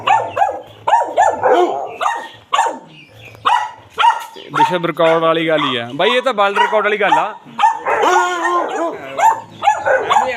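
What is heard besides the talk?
19-year-old dog barking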